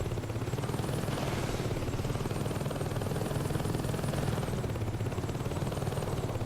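In the video game Saints Row 2, a helicopter in the Heli Assault activity gives off a constant loud, close rotor chop with a rapid rhythmic thumping that stays steady throughout and has no talk over it.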